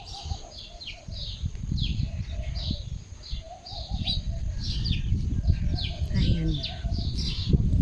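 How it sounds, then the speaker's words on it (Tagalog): Pigeons or doves coo repeatedly near a nest outdoors, with a series of soft cooing calls and chirps over wind and rustling, while a person talks at times. "Ayun, oh, may mga ibon sa taas."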